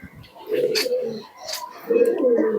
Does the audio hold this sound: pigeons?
yes